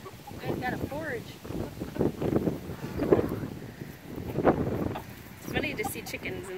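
Gusty wind buffets the microphone outdoors in a backyard with chickens, rising and falling in loud rumbling swells while people talk throughout.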